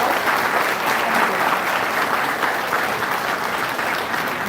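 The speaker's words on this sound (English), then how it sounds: "Can we have a round of applause?" A hall audience at a donor-recipient meet gives a loud, dense round of applause for the President, sustained clapping with no voices on top.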